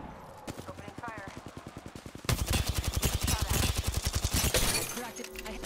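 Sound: gunfire in Apex Legends video game

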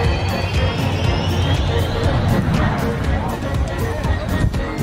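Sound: jet engine blast from behind a jet

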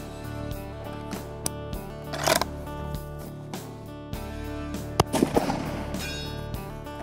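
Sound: Ruger American Rifle gunshots

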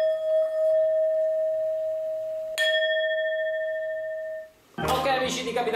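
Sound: Tibetan singing bowl ringing when rubbed

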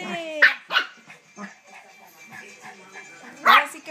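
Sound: dog barking while playing and biting

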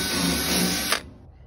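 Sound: power drill drilling holes in IBC tote uprights

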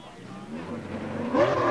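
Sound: Lancia Stratos rally car engine, Rallye Monte Carlo 1980

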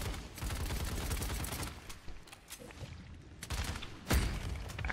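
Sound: grenade explosion in the video game Paladins

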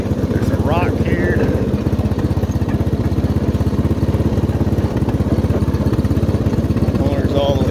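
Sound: push lawn mower running

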